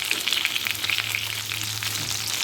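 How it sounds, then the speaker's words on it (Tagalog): Pork steak frying and browning in a pan for bistek Tagalog, giving a steady, moderate sizzle with crackling spits, continuous and alone without voices. "Ibabalik ko naman para mag-brown naman yung kabilang."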